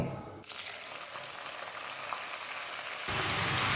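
Taro stolons (kochur loti) dropped into hot oil tempered with panch phoron, a dense crackling sizzle that runs steadily and then surges louder near the end, close up with no voices.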